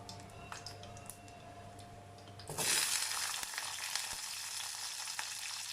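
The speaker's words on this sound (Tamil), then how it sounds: "வெங்காயம் ஒரு 2 நிமிஷம் வதங்கட்டும்." Onions sautéing in a pan for a Tamil mutton uppu kari; a quiet spell with faint clinks gives way suddenly to a loud, steady hiss as they hit the hot fat, sizzling on with small ticks and crackles.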